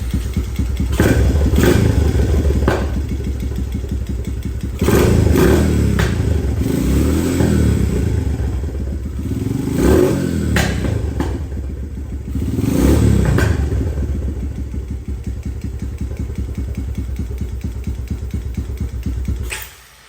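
A 2017 Honda TRX250x ATV, choked and in neutral and in need of a rebuild, cranks and catches, its engine running with uneven surges and bursts of revving before dropping off at the end.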